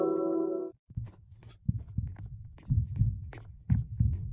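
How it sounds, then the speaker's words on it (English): In the Roblox game Flee the Facility, the beast's heartbeat thumps in a steady run of low muffled beats after a brief tone ends, with no talk over it. "Heard the heartbeat of the beast"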